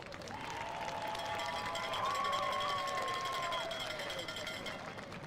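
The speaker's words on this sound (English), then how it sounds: "Let's give one more round of applause to our seniors and their parents." Applause and cheering from spectators in the stands honoring seniors and their parents before a high school football home game, a broad sustained wash of clapping heard from a distance with a tonal sound sustained over it midway.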